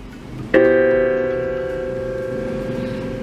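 A single piano chord struck once, ringing out clearly and decaying slowly over a few seconds, close and alone with no talk.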